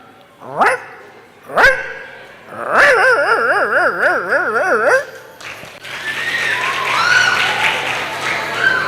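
A human voice imitates a small white Alsatian dog: two sharp yips, then a long wavering whine-like howl, followed by softer breathy noises.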